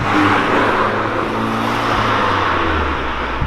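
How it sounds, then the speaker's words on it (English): Abarth 595 Trofeo, a tuned Fiat 500 hatchback, revs its small engine in a loud, steady, close-up drone with a throaty low rumble that holds throughout, no voices over it. "For a little Fiat 500, it really does make a great sound"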